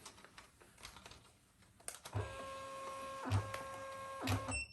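A Rollo label printer whirs and feeds a label in short mechanical bursts after some light clicking and handling, close and fairly quiet, with no speech.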